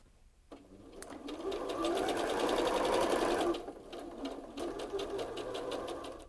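A sewing machine stitches pieced quilt fabric in a quiet room, a fast, close whirring run that pauses briefly and then resumes.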